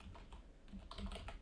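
Keys clatter on a computer keyboard in a quiet room, a quick irregular run of soft, close taps that grows a little denser toward the end.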